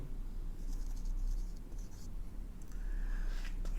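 Marker or chalk scratches an entry onto a board in short, faint strokes over a low steady hum, with a brief squeak near the end.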